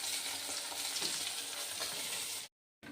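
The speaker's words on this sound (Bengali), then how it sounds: "তো এবার আমি মাছটা ভেজে নিচ্ছি" Pabda fish frying in a pan, a continuous close sizzle of hot oil that cuts off abruptly near the end.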